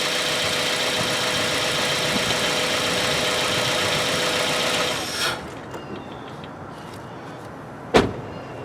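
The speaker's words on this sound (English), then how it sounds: "Now, we'll go turn the car off." A car engine idles with a steady hum for about five seconds, then is switched off and dies away, leaving a quiet space broken by a single sharp click or thump near the end.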